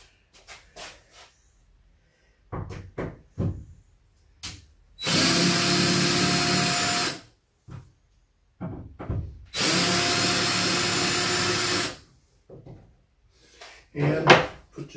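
A power drill backs screws out of a metal splice plate on a wall-mount module, two sustained whirring bursts of about two seconds each, separated and framed by clanks, handling knocks and brief talk.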